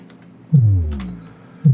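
Two deep kick drum hits sound about a second apart, the first with a long boomy tail that slowly fades.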